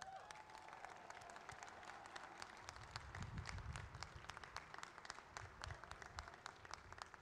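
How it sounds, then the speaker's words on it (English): A New Mexico Tech commencement crowd gives itself a round of applause, distant but dense clapping spread across a large venue, swelling slightly midway with faint crowd noise. "Let's give yourselves a round of applause."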